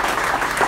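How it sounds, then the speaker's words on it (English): An audience at a master class in Uganda claps together in a dense, continuous burst of applause, steady and fairly close throughout the brief moment. "And can we give him a round of applause?"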